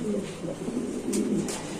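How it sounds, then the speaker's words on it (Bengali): Male pigeons of the dragon and beauty breeds coo at a bird market stall, a low, rolling, continuous murmur with a faint higher chirp or two over it. "এটা নর কবুতর ভাই"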